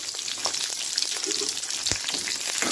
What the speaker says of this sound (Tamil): இந்த கலரில் வந்தோடனே நம்ம சின்ன வெங்காயம் ஆட் பண்ணுவோம்